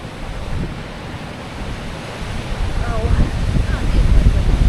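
Strong wind buffeting the microphone at a cliff edge, a dense roaring rush mixed with surf-like noise that grows louder over the last seconds, with faint voices beneath.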